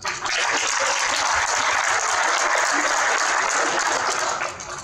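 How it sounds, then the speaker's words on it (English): A dense, steady round of applause from an audience at a farewell address for a former South African Air Force chief, sustained and fairly loud throughout before tapering off near the end. "you deserve a round of applause"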